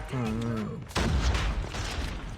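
Gunfire in the mobile shooter Call of Duty Mobile, a sudden loud burst of rapid shots that cuts in right after a short spoken phrase and continues as a dense rattle.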